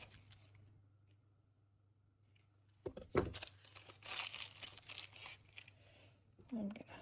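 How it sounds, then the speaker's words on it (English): Plastic piping bag being twisted up with crinkling and crumpling, then a sharp snip as scissors cut off the tip, close and fairly quiet over a low steady hum. "Twist up my bag and cut a little tip off."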